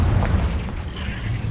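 A Confringo fire spell in the game Hogwarts Legacy, sounding as a loud, continuous booming blast with a deep rumble that holds steady for the full length, up close and without speech.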